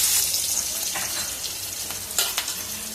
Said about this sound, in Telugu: 2-3 మినిట్స్ అలా ఫ్రై చేసుకోండి.